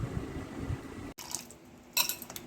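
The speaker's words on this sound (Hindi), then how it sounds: "देखिए, मैं वॉश कर रही हूँ गोश्त को अच्छी तरह।" Raw mutton being washed by hand in a pot of water, with soft splashing and sloshing, a brief pause, then a louder burst of clattering water and metal near the end.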